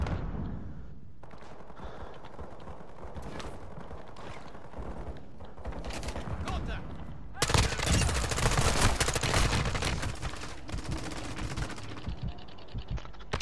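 Machine gun fire in a first-person shooter extraction game, bursting in long rapid rattling volleys that swell louder partway through, with other gunfire and a voice talking over the action.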